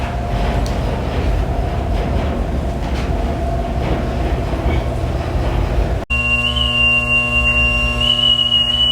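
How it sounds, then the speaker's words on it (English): Aboard the battleship USS Iowa, a ship's whistle sounds as a steady, sustained tone in the mess hall. It follows several seconds of loud, broad rumbling noise and holds level to the end. "the whistle is blowing"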